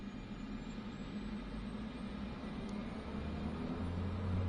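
An aircraft engine at full throttle for takeoff in Microsoft Flight Simulator 2024, a steady broadband roar that grows a little louder toward the end, with a faint high whine above it.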